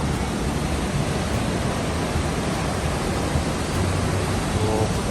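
Fukiware Falls, a Japanese waterfall, roars as a loud, steady broadband rush of water that fills the whole clip without a break.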